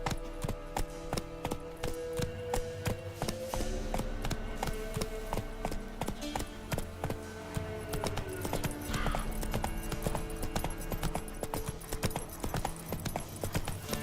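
Roach, the horse in The Witcher 3 video game, gallops with steady, rhythmic clip-clopping hooves, fairly close and even throughout, with no talking.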